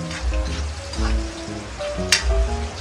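Eggplant adobo (adobong talong) sizzles and fries in a pan, a continuous crackle with periodic low thumps and a sharp clatter near the end, no voices.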